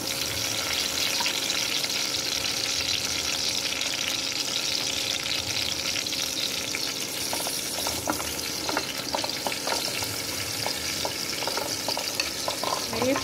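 Whole tomatoes fry in a modest amount of oil for an egg curry, giving a steady, dense close-up sizzle that holds evenly throughout, with a few faint clicks of utensils toward the end.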